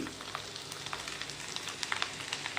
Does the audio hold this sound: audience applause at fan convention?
no